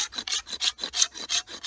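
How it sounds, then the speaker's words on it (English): A Silky saw shaves wood in quick back-and-forth strokes, about eight rhythmic raspy pulses, close and clear with no talking. "Here's my silky saw."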